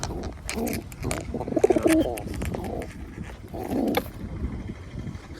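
Soft pigeon cooing close by, a few low burbling calls rising and falling, with scattered bird chatter and a dog-like bark mixed in.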